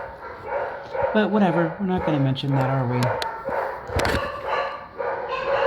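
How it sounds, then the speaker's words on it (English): Dogs barking and whining indoors, with a run of sharp barks and rising whimpers, fairly close and loud, mixed with someone talking over them. "wait for them to stop barking"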